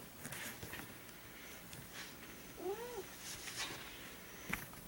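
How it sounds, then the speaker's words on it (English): A domestic cat, one of two kept in a warm house, gives a faint, short meow. It sits in a quiet, noisy indoor background with scattered soft clicks and rustles. "We've got 2 cats that like a warm house to live in."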